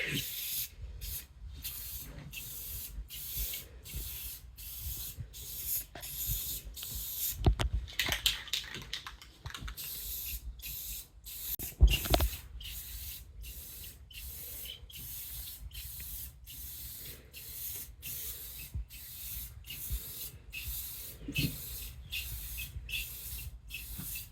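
Short bursts from a spray can lay a light coat on the sleeper floor of a Peterbilt 379 truck, close quick hissing puffs repeated in an even rhythm with a few louder knocks between.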